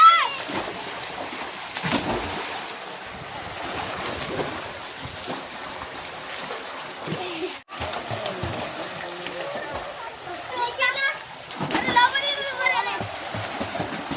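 Kids swimming and splashing in a village pond or well in summer, with repeated splashes and water churning close by under excited children's shouts and chatter throughout.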